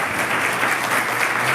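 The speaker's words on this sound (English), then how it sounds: "That is something you can actually applaud to." Dense, steady applause from a civic audience at a city State of the City address, continuous and fairly loud with no voices heard over it.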